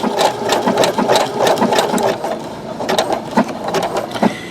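A Brother SE625 sewing machine stitches a coiled rope bowl, running in a fast, even mechanical whir with rhythmic needle thumps, briefly pausing and then resuming close by.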